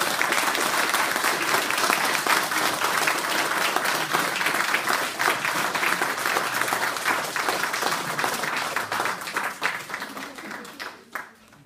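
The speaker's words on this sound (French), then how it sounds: "je vous propose que nous l'applaudissions" An audience applauds in a long, dense round of clapping during a Legion of Honour ceremony, loud and sustained before thinning out and fading near the end.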